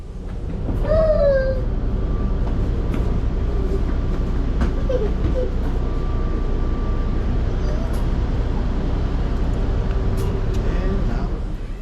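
Interior of a SMART commuter train running from Larkspur to Santa Rosa, a steady low rolling rumble with brief squeals and tones over it, and voices talking under the noise.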